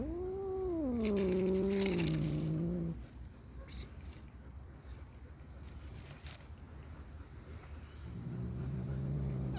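A cat gives a long, loud, wavering meow close by, then falls quiet before starting another low yowl at the end, with faint background noise in between.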